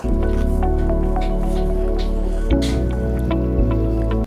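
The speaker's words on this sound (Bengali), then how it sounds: "গাজর কুচি দিয়ে আমি আবারও একটু নাড়াচাড়া করে নিব।" Chopped carrots are stirred into chicken fried rice in a pan, giving wet squishing scrapes and soft ticks of the spatula over a steady low kitchen hum.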